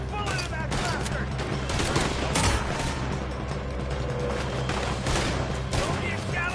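Red Dead Redemption 2 gunfight with sustained rapid volleys of gunshots and fusillade, loud and dense throughout, mixed with shouting voices and game effects.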